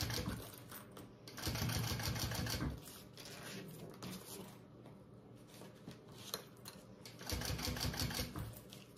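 Sewing machine stitching across a seam on a medium bag project, running in bursts with pauses between them, close and fairly steady, with no talk over it.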